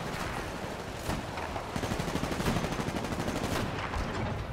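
Rapid gunfire from a weapon in the video game Titanfall, dense repeated shots forming a continuous loud burst that intensifies midway and runs the full length without talk.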